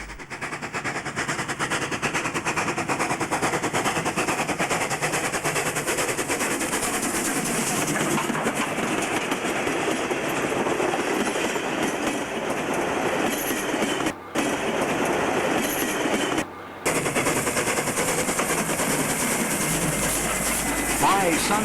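Steam locomotive 3016 rumbles past close by through a small roadside station in New South Wales, Australia, with continuous rhythmic wheel clatter and chuffing, loud and sustained throughout.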